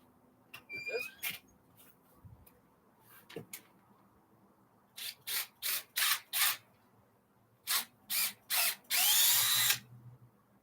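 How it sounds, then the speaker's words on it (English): Several short bursts of a weak, dying power drill whirring, spaced apart, the last one held longer, fairly close with a quiet room between runs. "It helps when your drill is actually not dying."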